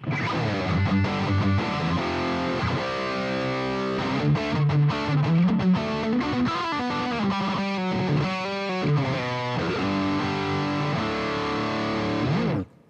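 A guitar played through the Boss Gigcaster 8 on its Dry X Drive distortion preset: crunchy, saturated chords and single notes ring out loud and close for about twelve seconds, then cut off abruptly.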